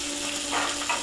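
Mustard oil sizzling in a cooking pan, a steady close hiss with brief swells of crackle, heard alone.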